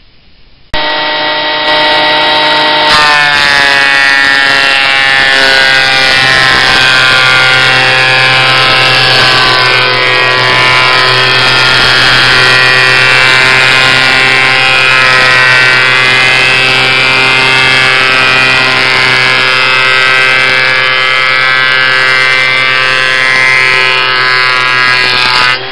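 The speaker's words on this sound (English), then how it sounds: "So first step, planing my boards." Power planer running steadily across wooden boards for a chair lounger build, a loud, sustained high-pitched whine with dense harmonics that starts abruptly and holds for the whole stretch without any talk.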